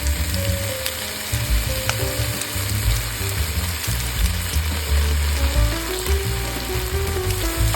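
Ketchup sizzles and fries in a hot pan of Japanese chicken rice, a loud, steady crackle with occasional stirring scrapes throughout, close up and with no talking.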